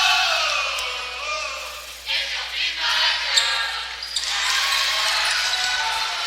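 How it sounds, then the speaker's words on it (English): At a boys' high school basketball tournament game, the crowd rises into loud cheering and shouting that swells in waves over a gym's ambient noise, close and energetic. "The Rolla crowd starting to get fired up a little bit."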